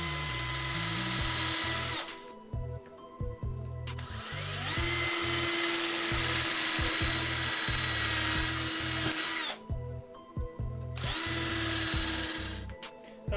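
Power drill whirring in long bursts while drilling out screws on a giant vampire bat build, loud and close, with short pauses and a sustained run in the middle.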